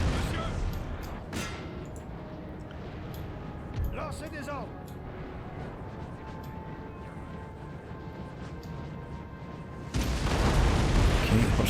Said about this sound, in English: But you fire some salvos into them